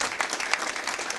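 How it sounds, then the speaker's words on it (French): An audience at a small live acoustic concert applauds the synth player, a brief, dense burst of many people clapping at moderate volume. "Vous pouvez l'applaudir en même temps."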